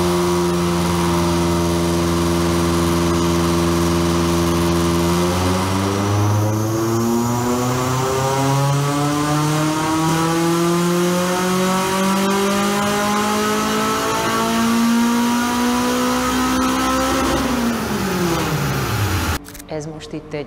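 A Honda Integra Type-R engine on a chassis dynamometer pulls steadily from idle up to high revs, its rising harmonic howl climbing loud and close for several seconds before cutting sharply as the throttle closes.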